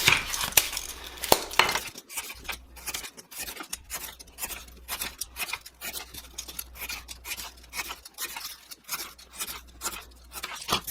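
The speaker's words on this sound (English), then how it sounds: "we're going to cut out a piece of styrofoam" A piece of styrofoam being cut out for a miniature foam house, giving a steady run of close, scratchy squeaking and rasping strokes with brief pauses, no speech.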